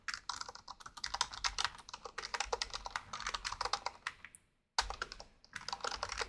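Rapid keystrokes on a computer keyboard while entering a SQL insert statement, close and continuous with dense bursts of clicks, one short pause and then more typing.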